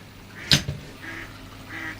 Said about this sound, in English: when you get interrupted by your duck filming a video